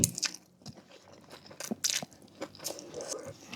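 Crispy pork crackling crunches loudly and close up as it is bitten and chewed while eating tom yum dry noodles, in a rapid run of crackly bites.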